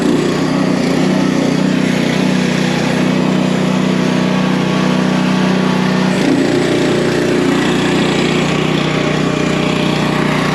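A golf cart bought at auction runs while being driven, giving a loud, steady, buzzing engine drone that shifts pitch slightly partway through, with no speech.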